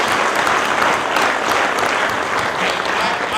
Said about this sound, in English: Please give Velda a round of applause